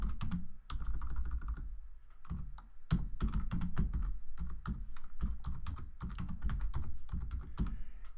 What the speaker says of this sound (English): So I'll go ahead and type that in.